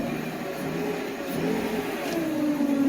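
A 1993 Mercedes 500E engine, just back from throttle body repair, runs with a steady mid-pitched hum that swells slightly as the revs rise gently toward the end, heard up close with no talking.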